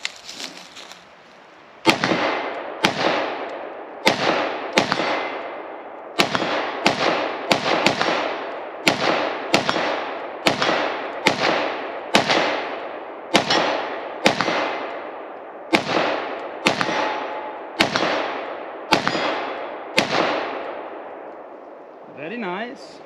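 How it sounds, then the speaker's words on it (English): IWI X95 Tavor bullpup rifle fired at an outdoor range: about twenty sharp, loud shots in a steady, evenly spaced string, each with a short ringing decay. "very first shot's out of the X95."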